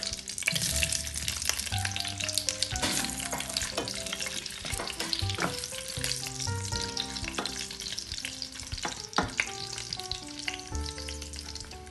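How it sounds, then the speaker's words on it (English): Meat hitting hot ghee and searing for a Persian-style braise, a loud, dense crackling sizzle with sharp pops and spatters throughout, no voices. "So I have my ghee, and then I'm going to add my meat."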